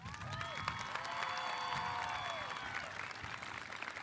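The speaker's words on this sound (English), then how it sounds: "Let's honor them with a round of applause" Parents are honored with applause at a high school graduation ceremony, a steady, distant crowd clapping with some cheering and whistles rising over it.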